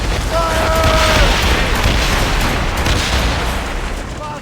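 Ship cannons firing in naval combat in Assassin's Creed Rogue, a heavy rolling boom that fills the whole stretch, loud and dense with a brief tonal horn-like note early on.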